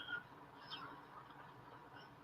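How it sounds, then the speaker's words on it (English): Birds chirp outdoors near residential back alleys and streets, a few faint, scattered calls rising over a quiet, steady outdoor hush, with one sharper chirp at the very end. "I hear birds."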